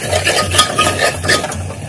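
Jaggery, spices and local chillies being stirred in hot oil in a Goan kitchen, with a steady close sizzle and repeated utensil scrapes against the pan, no voices.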